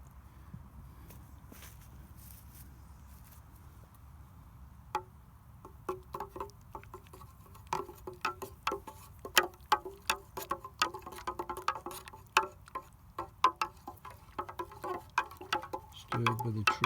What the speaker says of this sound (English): Stirred with a trusty tent peg.